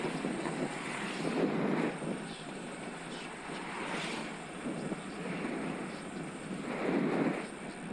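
Steady wind roar buffets a microphone while cycling into a strong headwind on a Scott Addict RC e-bike, a continuous rushing noise with gusty surges that swell and fade every couple of seconds.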